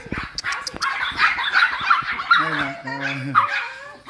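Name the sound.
Pomeranian dog barking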